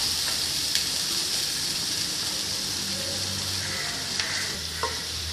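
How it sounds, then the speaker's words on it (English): Onions frying and sizzling in hot oil for chicken kabsa, a steady dense crackle throughout with a few small pops and faint clinks, close and continuous, no talking. "Now I'm going to add these much onions into it,"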